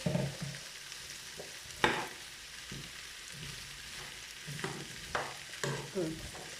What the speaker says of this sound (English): So now I'm gonna add all my veggies in it.